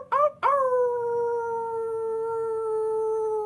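A person imitates a wolf howl, giving two short yips followed by a long, sustained, slowly falling howl that holds steady for several seconds, close and clear with no other talk.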